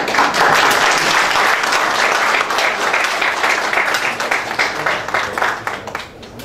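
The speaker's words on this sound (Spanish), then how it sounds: "Un aplauso." Audience applause closing an engineering event on submarine outfalls for wastewater disposal: dense, steady clapping from a full room, loud and continuous throughout before easing slightly at the very end.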